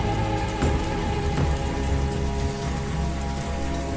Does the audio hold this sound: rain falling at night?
yes